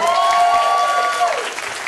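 An audience claps at a wedding celebration, steady dense applause filling the space with a sustained tonal note running underneath that fades near the end.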